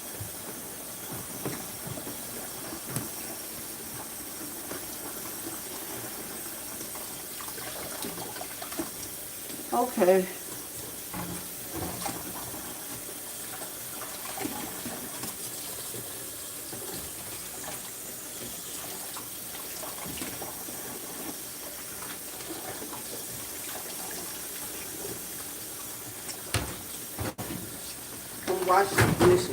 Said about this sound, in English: I'm washing the dishes, y'all.